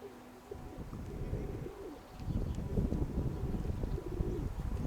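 Domestic pigeons cooing softly in a loft or yard, low soft calls repeating through the clip under some rustling and background noise.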